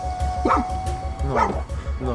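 Dogs bark close by behind a door, two sharp yelping barks over a steady low thumping, while a person speaks anxiously.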